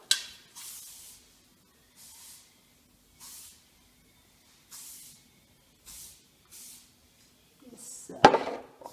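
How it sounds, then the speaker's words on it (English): Hair spray from an aerosol can, applied while styling a short pixie haircut. About six short, separate hisses come at steady gaps, close and clear, and a louder rustling burst follows at the end. "just put some kind of spray in the hair."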